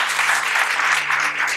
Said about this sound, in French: J'aimerais qu'on se donne à tous une bonne main d'applaudissements juste pour ça